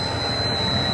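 A machine runs noisily in a dark building on the way to an electrical room, giving a loud, steady droning roar with a high constant whine, close and unbroken.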